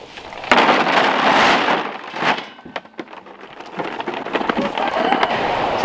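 Steady rain hisses and patters on a surface at a goat shelter, loud and close, with occasional sharper drops and thumps.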